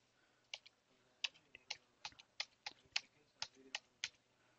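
Keys clatter on a computer keyboard as an IP address is entered during a Linux firewall installation, a dozen or so soft, close clicks in a quick, uneven rhythm against a quiet background.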